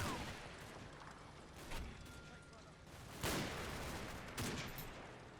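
Distant rifle and machine-gun fire crackles in Combat Mission: Battle for Normandy, a faint, continuous battlefield rumble broken by a few sharper, louder reports spaced seconds apart.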